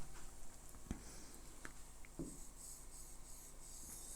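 Pen writing by hand on paper, soft scratchy strokes with a few sharper taps, faint and close, no talk.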